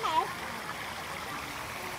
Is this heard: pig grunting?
no